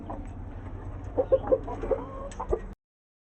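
Hens cluck and squawk in short agitated bursts, a few sharp calls standing out over a low background rumble before the sound cuts off.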